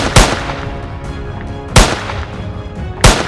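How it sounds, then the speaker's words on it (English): Three loud gunshots ring out at uneven intervals, each a sharp crack followed by a lingering rumbling echo. "A volley of gunfire rang out"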